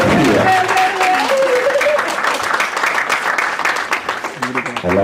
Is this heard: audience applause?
yes